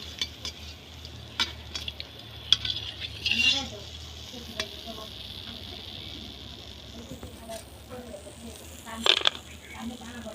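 Jackfruit jalebis fry in oil with a low steady sizzle, broken by scattered clinks and scrapes as a utensil stirs and lifts them out, with a few sharp taps.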